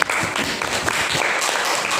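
A classroom full of students applauds a group after its presentation, with dense, loud clapping that continues steadily from start to finish.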